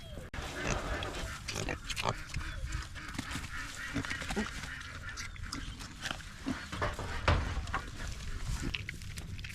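Pigs eat potatoes and apples on a farm, grunting and squealing with honking, trombone-like snorts and chewing, close and busy throughout; people talk now and then.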